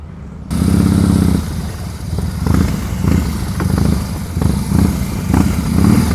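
A motorcycle engine idles loudly up close as the rider blips the throttle during advanced slow-speed riding practice, giving a rough rumble with repeated short revs rising and falling.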